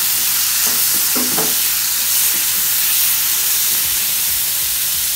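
Tomato goes into a hot frying pan with salt and garlic, hissing in a loud, steady sizzle with a few soft clatters as it is stirred, close up and with no talking.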